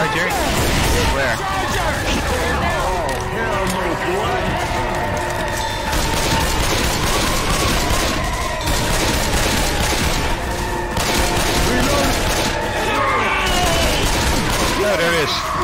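Rapid gunfire from Left 4 Dead 2, dense overlapping bursts running loud and continuous throughout, with crashes and game noise mixed in under shouting voices.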